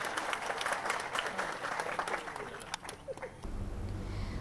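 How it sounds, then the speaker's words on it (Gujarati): A crowd applauds the merger of Surat Nagrik Sahakari Bank into Mehsana Urban Cooperative Bank, a moderately faint wash of clapping that thins out near the end as a low hum takes over. "તાળીઓથી આપણે વધાવીએ."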